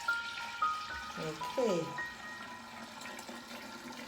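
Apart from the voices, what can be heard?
pouring tea into kombucha jar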